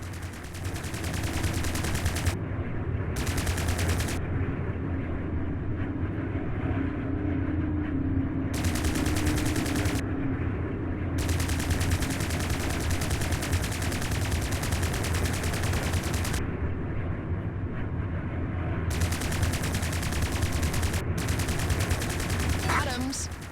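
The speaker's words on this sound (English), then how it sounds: "Bring your reticule in line with the target and fire your cannons." Plasma cannons fire in the space combat game Strike Suit Zero as a dense, continuous rapid volley, loud and unbroken for the whole stretch, with bursts starting and stopping over a steady roar and some faint voice beneath.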